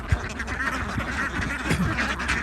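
Young female ducks with sprouting feathers quack in a short burst, several overlapping nasal calls close by, set against a busy background murmur.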